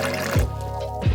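Water poured from a gallon jug, a steady liquid stream with two brief gurgling glugs about a second apart, close and fairly loud.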